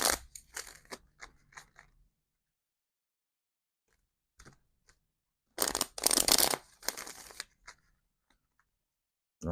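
Tarot cards being shuffled by hand in bursts of riffling and slapping, close and crisp, with a long quiet gap between the early short bursts and a louder, denser run later, with no voice.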